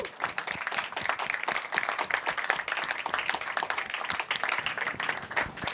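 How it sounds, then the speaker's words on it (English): An audience at a talk on privacy and surveillance claps hands together, a dense, sustained round of applause with no voices, steady and fairly close throughout. "Please join me in thanking you by clapping our hands."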